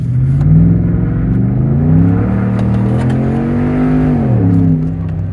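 A Ford F-150 with the 5.0 V8 and an MBRP cat-back exhaust revs up and settles several times, a loud, close, throaty drone that rises and falls in pitch, with no voices.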